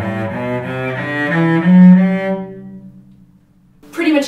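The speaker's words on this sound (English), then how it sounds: "So playing in a modern style where I make everything even, my down bows and my up bows might sound like this." Cello bowed in a modern style with even down and up bows, a sustained legato phrase with smooth, evenly weighted strokes, fairly loud and close, fading out near the end before a brief new attack.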